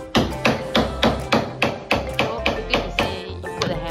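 A hammer taps steadily during post-renovation work in a newly renovated flat, with about ten sharp, evenly spaced strikes roughly every 0.4 seconds, loud and close and heard on their own.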